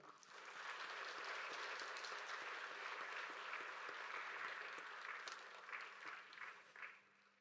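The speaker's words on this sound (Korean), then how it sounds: "감사와 찬송 영광의 박수를 드립시다" A church congregation at a Sunday anniversary service breaks into a sustained round of applause that swells, holds, then tapers off, heard faintly at a distance with no speech.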